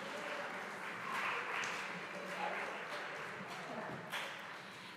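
Audience at a high school academic awards ceremony applauds in a soft, steady wash of clapping heard from a distance, with a few sharper claps and faint voices underneath.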